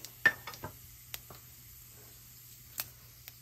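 Mustard seeds, cumin and fenugreek hitting hot oil for a Tamil steamed-egg kulambu, giving a few faint, scattered pops and crackles over a low steady hum, with one sharper pop near the start.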